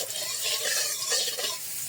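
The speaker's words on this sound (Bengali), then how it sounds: "এইভাবে তেল দেখ মাছ ভাজা" Fish fries in a small amount of hot oil in a pan, giving a constant close sizzle with scraping stirs as the oil is spread around, and no one speaks.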